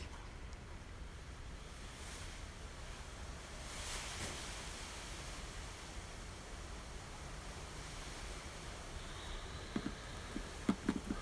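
A strong sea breeze of about 20 mph rushes steadily past outdoors in a broad, low roar, with faint surf-like swells and a few small knocks near the end.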